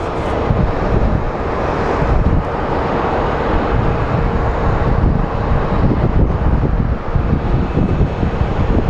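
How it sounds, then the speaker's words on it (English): Wind at Phoenix Sky Harbor International Airport: a loud, continuous rushing buffet across the microphone, with an aircraft-like rumble underneath that persists throughout, no voices. "Pretty much that's what Phoenix winds are like"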